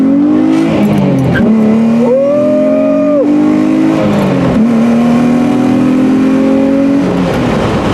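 Loud, close Nissan 350Z engine revving up and down through test pipes and a resonator, with a deep exhaust note rising and falling in pitch over several seconds.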